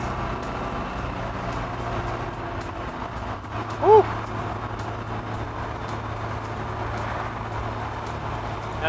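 A 1961 Alfa Romeo 2000 by Touring with no power steering, driven along at a steady pace, its engine holding a constant drone under road and wind noise inside the cabin.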